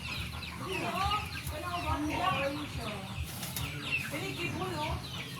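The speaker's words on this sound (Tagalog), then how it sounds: "Ayan guys, Bisaya na chicken." Native Bisaya chickens clucking and chattering close by in a continuous, busy flock sound, with a person's voice mixed in.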